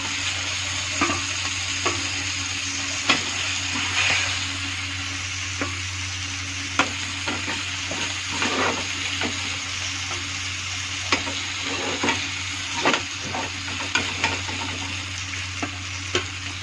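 Vegetables for barta sizzle softly in a pan over a steady hiss, with scattered light clicks and scrapes from turning them, close and even throughout with no talking.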